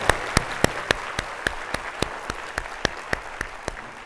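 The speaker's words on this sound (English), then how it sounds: "So can we give them a round of applause" Applause at an Ohio State University InnovateX opening event, heard as a crowd wash with a single loud, close pair of hands clapping in a fast, even rhythm over it.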